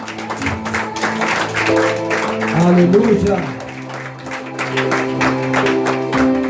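A church congregation claps together in a broad, sustained wash of applause, with voices speaking and calling out over it.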